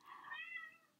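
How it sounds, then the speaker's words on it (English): An indoor house cat meows once, a drawn-out, slightly rising call lasting about a second, close by but quiet, with no talking. "She wants to go outside and I'm not letting her. She's meowing."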